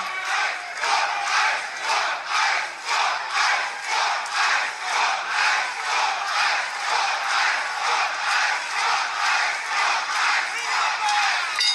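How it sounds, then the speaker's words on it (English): A wrestling crowd at an AEW match chants in loud, rhythmic unison, the pulses of roaring voices repeating steadily about once a second with no commentary over them. "I like how the announcers even stop so that the crowd can be heard"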